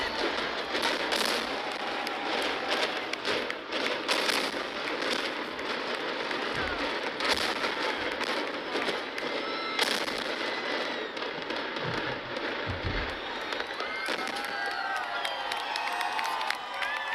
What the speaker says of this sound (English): On April 11th of 2010, the Weir Brothers Demolition Company rigged the old stadium to blow.